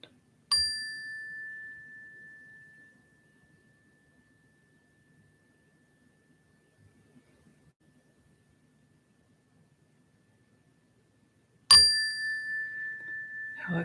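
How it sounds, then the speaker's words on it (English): A meditation bell is struck once, ringing out clear and sustained before slowly fading to near silence, then struck again near the end with a fresh bright ring, heard alone in a quiet room. "just breathe and listen to this bell"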